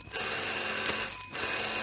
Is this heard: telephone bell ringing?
yes